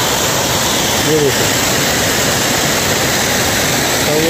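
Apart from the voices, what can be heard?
waterfall beside a mountain road near Chopta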